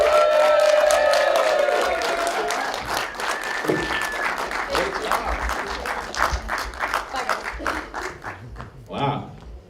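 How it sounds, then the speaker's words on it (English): Audience applause and cheering for Sofia Enriquez at a live variety-show taping, a loud burst of clapping with whoops that slowly thins into scattered claps, with a short voice and some crowd chatter over it. "let's hear a round of applause for Sofia Enriquez"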